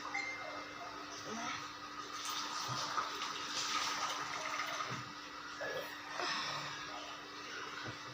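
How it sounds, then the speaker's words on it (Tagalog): Water poured into a container while making a milk drink: a quiet, fairly close trickling and splashing pour that lasts several seconds, with faint voice sounds now and then. "Lalagyan ng tubig."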